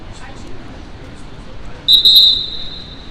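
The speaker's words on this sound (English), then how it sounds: "That whistle you hear is the doorman at the Yale Club." A doorman's sharp, high whistle outside the Yale Club in New York on a rainy day, one sustained shrill blast with a brief flutter, loud over steady street ambience.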